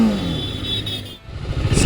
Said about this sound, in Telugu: బైక్ ఇంజిన్ స్టార్ట్ చేసుకుందాం.